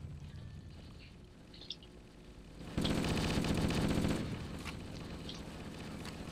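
Assault rifle fire from the game Halo 1 comes as a dense sustained burst of automatic shots lasting over a second, loud against the steady game ambience.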